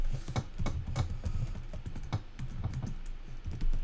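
Someone types code on a computer keyboard in a programming lecture, a fast, close, uneven clatter of key taps with no speech over it.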